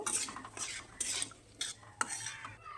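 Whole spices (cinnamon, cardamom and bay leaves) are stirred in mustard oil in a wok, with quiet metallic scrapes and clinks of a spoon in bursts over a faint, soft sizzle.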